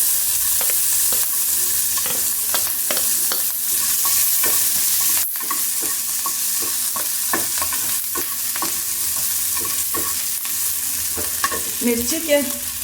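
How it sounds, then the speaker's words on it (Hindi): Mustard seeds crackle and pop in hot oil for a stuffed paratha filling, a dense steady sizzle full of sharp, irregular pops, close and loud, with one brief louder snap midway and no talking. "जब राई फूटना शुरू हो जाएगी, ऐसी फूटने लगेगी, तब फिर हम उसमें डाल देंगे मिर्ची"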